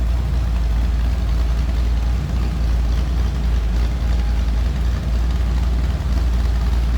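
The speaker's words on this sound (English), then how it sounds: "A little rumble coming out of that exhaust." A 1936 Ford Deluxe Tudor sedan street rod idles with a steady, low exhaust rumble, close by and continuous with faint periodic pulses and no talking.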